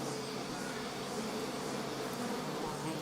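A swarm of bees buzzes steadily and close, a continuous droning hum around a honeycomb that holds at an even level for the whole few seconds.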